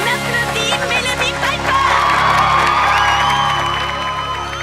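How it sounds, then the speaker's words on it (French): A cartoon crowd cheers and applauds for Mélodie, a swelling wash of clapping and shouts that grows louder midway and holds, heard up close with no talking over it. "On applaudit Mélodie"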